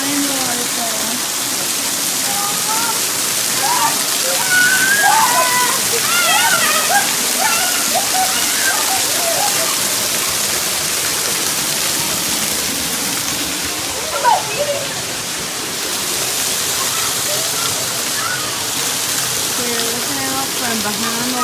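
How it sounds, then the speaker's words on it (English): A steady rush of falling water fills the air continuously from behind a waterfall in the Smoky Mountains while several people talk over it. "here's the part where we're actually going to walk behind the waterfall"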